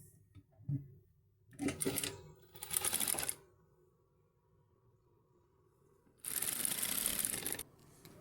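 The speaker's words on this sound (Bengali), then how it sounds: "এই পর্যায়ে আমরা সেলাইটি শুরু করলাম" A sewing machine stitches the hem of a palazzo leg in short separate bursts, two brief runs early and a longer steady run near the end, with quiet pauses between.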